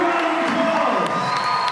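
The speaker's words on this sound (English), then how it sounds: "Have a big round of applause." Crowd cheering and applause in a gym after an overtime decision at a high school wrestling match, loud and continuous with whoops and shouts layered over the clapping.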